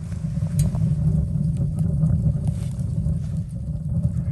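Premium camp stove burning with a steady low roar, a dense continuous rumble that holds level and fairly loud throughout, with no voices.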